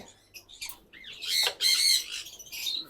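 Pet parrots and conures in a cage give loud, harsh squawks, several overlapping calls in bursts, close by, with no voices over them.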